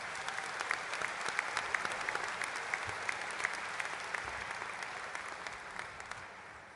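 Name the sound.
audience applause at a graduation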